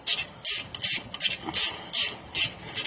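A ratchet turning brake bolts on a 1998 Jeep Grand Cherokee gives a rapid series of about eight short, bright, raspy bursts in a steady rhythm, close by and moderately loud.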